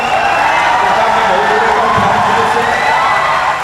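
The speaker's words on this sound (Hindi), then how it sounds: "ताली पर हाथ उठा के बजा दीजिए जोरदार" A poetry gathering's audience claps and cheers loudly, a dense, sustained wall of crowd noise with shouts and whoops mixed through it, steady and close for several seconds.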